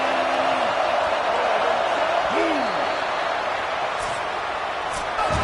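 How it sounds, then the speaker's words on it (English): A stadium crowd roars steadily and loudly on third down during a college football video game between Cal and Wake Forest, a constant wash of cheering noise with brief whistle-like tones near the start. "Decibels rising as the crowd gets behind this defense on third down."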